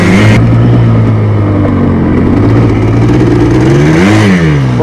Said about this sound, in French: c'est vraiment un petit quad, on peut tout faire avec